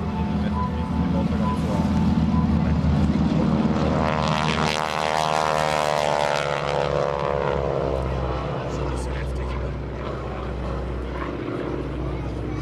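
A T-6 Texan propeller plane, a 1930s design, flies past at an airshow with a loud droning engine that swells and then fades as it moves away.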